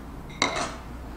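Seasoning being mixed into julienned radish salad (musaengchae) in a bowl: a single clinking, scraping clatter of utensil against dish, short and close, with quiet room tone around it.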